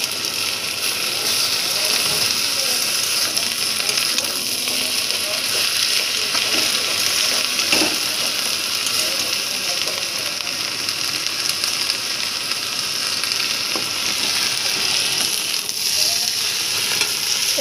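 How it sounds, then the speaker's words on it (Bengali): Leaves and jackfruit seeds frying in oil, with burnt coconut added, give a continuous close sizzle with faint scraping from stirring throughout, and no voices. "এইবার একটু তেলের মধ্যে পাতা আর কাঁঠালের বিচি নাড়িয়ে একটু ভেজে নিয়ে"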